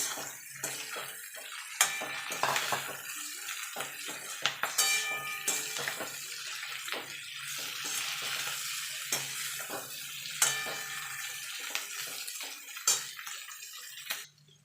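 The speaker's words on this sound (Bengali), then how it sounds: "এবার আমি চিকেনগুলো দিয়ে দেবো" Raw chicken pieces tipped into a hot pan of chopped green chillies for chilli chicken, a steady close sizzle with scraping and clattering from stirring throughout, and no talking.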